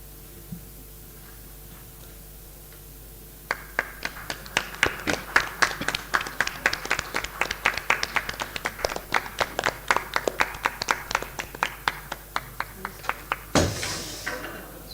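Scattered hand claps grow into steady audience applause at a regional workshop hall, moderately loud and fairly close, then thin out to a few isolated claps toward the end, with a faint voice near the close.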